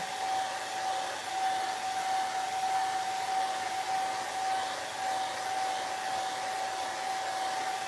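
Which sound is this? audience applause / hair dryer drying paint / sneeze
hair dryer drying paint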